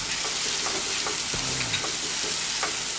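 Onions frying in a pan after chole masala is added, a constant loud sizzle broken by several scraping stirs of a spatula, close up and uninterrupted by speech.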